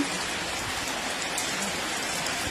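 Steady rain falls continuously, a dense hiss of drops striking a surface, even and unbroken throughout.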